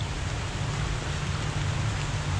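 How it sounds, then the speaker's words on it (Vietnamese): Steady rain falls at a cemetery, an even, close hiss of drops with no breaks and no voices. "giờ trời mưa nữa rồi"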